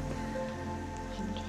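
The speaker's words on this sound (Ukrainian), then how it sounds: "З дощиком такий трошки." Rain mixed with light snow falls in a frosty Carpathian forest, a dense, steady patter of drops on surfaces with a constant low hiss, fairly close and even throughout.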